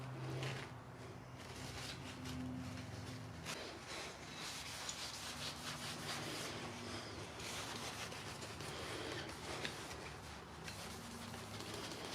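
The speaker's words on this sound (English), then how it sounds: "I just hit it with a little bit of rubbing compound" A dull, dirty part from a Ford ZF Fairlane being polished by hand with rubbing compound, a continuous close rubbing and scrubbing sound with rapid back-and-forth strokes and no voices.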